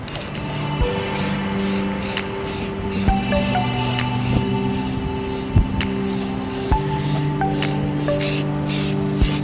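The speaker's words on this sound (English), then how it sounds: "you hold the can 6 to 8 inches away from it, you lightly spray, and you add 1 coat at a time" Aerosol can spraying primer onto exposed body metal of a BMW E30, a steady hiss that continues throughout, with faint knocks and clicks along the way.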